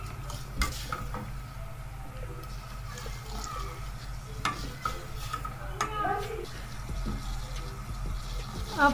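Tea leaves boiling in water in a pan on a stove, a steady bubbling sizzle with occasional clinks and stirring scrapes of a utensil against the pan, close and moderately loud throughout.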